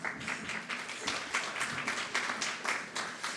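An audience applauding at a county State of the County address, a steady patter of many hands clapping in a hall, fairly even and moderately loud with no voices.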